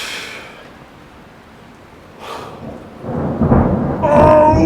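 Thunder from a lightning strike rumbles up at a distance, growing louder and rougher over several seconds, with a faint breathy sound near the end.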